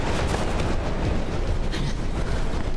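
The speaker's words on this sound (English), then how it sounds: "Man, they're still shooting." Dense, continuous bursts of gunfire and booming blasts crackle without pause in Mirror's Edge, loud and chaotic like a firefight.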